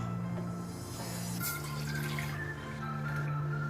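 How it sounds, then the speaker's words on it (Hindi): Water from a cup is poured into a saucepan, a quiet steady trickle and splash with a faint low hum underneath. "ये भगोनी में डालते हैं पानी"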